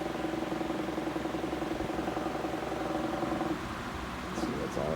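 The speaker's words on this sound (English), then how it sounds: "it warped the blade, so you're going to hear a lot of wobble and vibration" A 1998 Lasko 16-inch desk fan with a heat-warped blade runs steadily, its motor hum carrying a rhythmic wobble and rattling vibration that eases slightly near the end.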